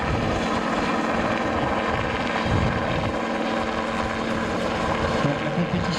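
A CH77 Ranabot ultralight two-seat side-by-side helicopter hovering, its engine and rotor making a loud, steady, broadband roar with a constant rhythmic throb that holds throughout, with no talk.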